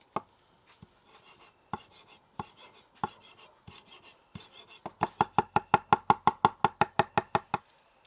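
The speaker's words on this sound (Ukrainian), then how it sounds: "Для соуса беру петрушку, нарізаю дрібно." A knife chops parsley on a board: scattered slow cuts, then a fast steady run of crisp chops, close up with no voices.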